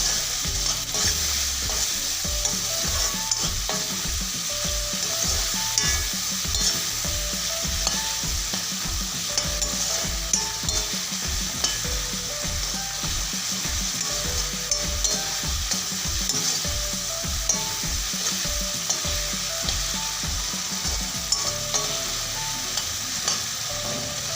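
Red chilli and turmeric fry in a pan with a steady sizzle while a utensil stirs and scrapes against the metal over and over, close up.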